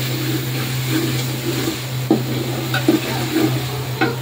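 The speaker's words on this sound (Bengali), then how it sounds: "তো মশলা কষানো হোক।" Spices for khichuri being stirred and fried in a pot, a steady low sizzle under a constant hum, with a few sharp spoon scrapes against the pot near the end.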